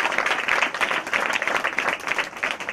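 An audience claps loudly for dancers at a Christmas program, a dense, steady round of applause with pulsing overlapping hand claps throughout.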